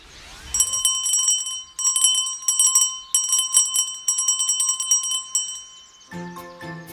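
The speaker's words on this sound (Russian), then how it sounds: "Это звучал колокольчик." A small bell rings repeatedly in rapid clusters of bright, shimmering strikes for several seconds, close and clear, before a different, lower chiming tone takes over at the end.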